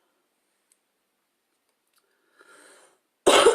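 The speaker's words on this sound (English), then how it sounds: "You have to excuse me with my coughing." A single short, loud cough bursts out abruptly at the end, close to the microphone, preceded by a brief stretch of faint breathy murmuring during a makeup routine.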